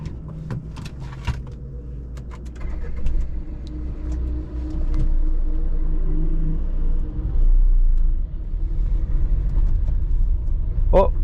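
A car drives along a road on a short trip, heard from inside as a steady low rumble that swells as it speeds up, with a few clicks and a voice now and then.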